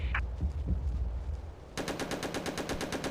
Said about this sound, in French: L'ennemi nous tire dessus.